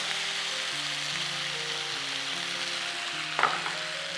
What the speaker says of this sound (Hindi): वो स्कीवर जो पहले हमने कुक की थी वो भी इसी के अंदर ऐड कर रहा हूं मैं